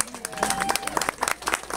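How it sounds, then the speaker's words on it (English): An indoor audience claps in scattered, uneven bursts, close and moderately loud, while voices talk over the applause. "So yeah, keep the clapping going."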